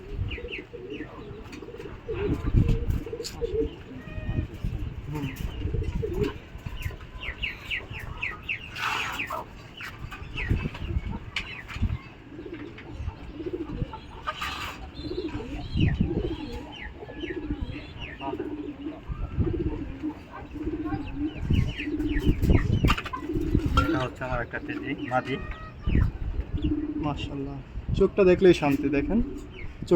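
Pakistani high flyer teddy pigeons cooing softly and steadily in the background while someone talks continuously up close.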